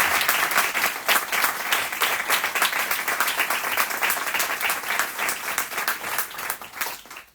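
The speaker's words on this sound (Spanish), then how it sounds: "siempre pido un aplauso para Claudio, para que vea que todos estamos" Audience at a literary conversation event with a writer applauds loudly and continuously, many hands clapping in a thick, steady roar that fades only at the very end.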